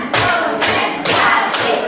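A group claps together in sharp, loud bursts of synchronized hand claps, repeating in a steady counted rhythm during a coaching session for academic supervision, with no talking over the claps.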